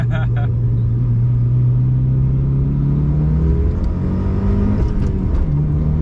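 A Mitsubishi Lancer Evolution III, an old 27-year-old car, pulls in second gear with a steady loud engine drone whose pitch rises gradually, heard from inside the car under a continuous rumble.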